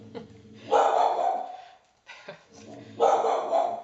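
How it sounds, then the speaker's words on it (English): A pet dog indoors lets out a few sharp barks, nearby and loud, in two bursts with a pause between, alongside a person talking. "Oh, that was my dog."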